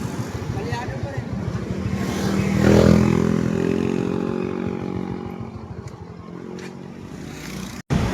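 An NS150 motorcycle engine with a freshly cleaned carburetor revs up to a loud peak and then settles back down with an uneven, rough-sounding tone, close by and with no talk over it.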